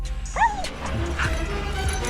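A rescue dog gives a short, high yip near the start, with water and outdoor background noise continuing around it.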